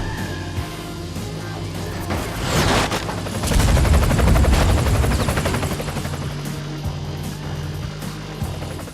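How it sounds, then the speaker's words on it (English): A helicopter's rotor chop in the racing game Split/Second swells louder midway, with bursts of rapid gunfire layered over the thumping blades. "The helicopter noises are so good."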